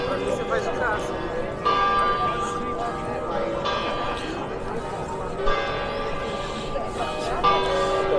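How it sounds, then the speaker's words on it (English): Church bells ring in Pisa, Italy, with repeated loud, resonant strikes that sustain and overlap across the whole stretch, heard outdoors, with a voice talking faintly beneath them. "We'll listen to the bells and I'll talk a bit more."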